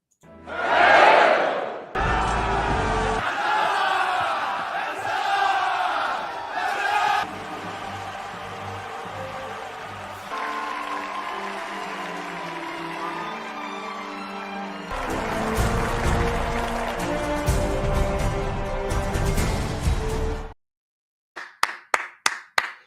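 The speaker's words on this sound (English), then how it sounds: "That's enough applause for Breezy." An audience at a live comedy show claps and cheers loudly over a busy, tonal backdrop for about twenty seconds, then goes quiet before a few sharp, evenly spaced claps close it out.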